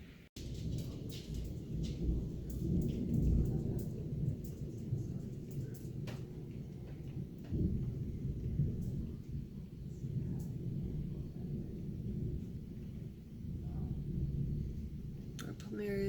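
Heavy rain pours during a thunderstorm, a dense, steady roar of downpour with low rumbling underneath and occasional sharper crackles, continuing without a break.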